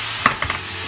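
Ground pork fries in a pan, a constant close sizzle broken by a couple of quick scraping stirs.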